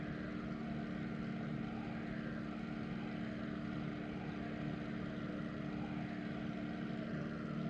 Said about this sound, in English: it's, like I said, a fantastic plane, and I love the P-51 to death